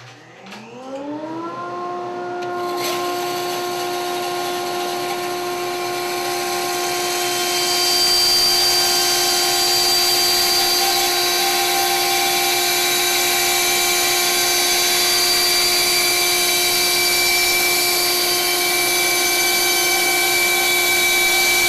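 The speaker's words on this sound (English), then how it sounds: "I'm going to go ahead and cut this at the bandsaw." A bandsaw runs up to speed and then holds a steady, loud whine with a rising hum, rough-cutting a wooden blank for a hand plane. It is heard alone, with no talk.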